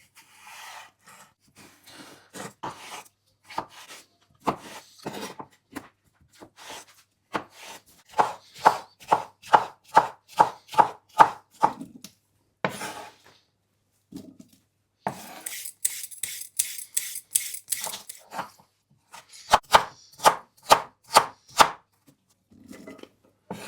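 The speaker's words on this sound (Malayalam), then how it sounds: "ഇനി നമുക്ക് പീൽ ചെയ്ത് വെച്ചിരിക്കുന്ന ക്യുക്കുംബറും കൂടെ ഒന്ന് ഡൈസ് എടുക്കാം" A knife dices peeled cucumber on a board in quick, crisp runs of evenly spaced chops, with short pauses between bursts, close and clear with no talk.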